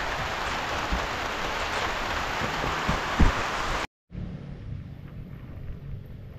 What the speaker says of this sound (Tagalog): at ngayon inabot na nga tayo ng ulan.